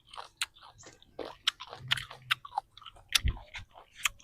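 Crunchy fruit being bitten and chewed up close, a string of crisp crunches and wet chewing bursts at an uneven pace, with no talking.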